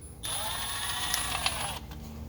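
A ratchet snugs down an oil pan bolt on a Ford 6.7 diesel truck engine, giving a close, steady run of rapid clicks for about a second and a half before stopping.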